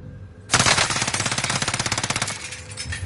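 Rapid automatic gunfire in a first-person shooter video game, a loud sustained burst of fast, evenly spaced shots running for about two and a half seconds, close and dominant with no talking over it.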